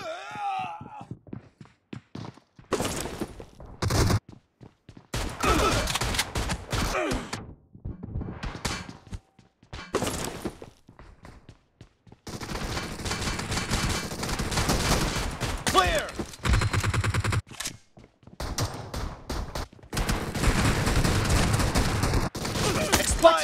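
Gunfire in the mobile battle royale game BGMI: dense bursts of rapid shots and volleys come in repeated clusters with short gaps, loud and close, with occasional game sounds and faint voices between the bursts.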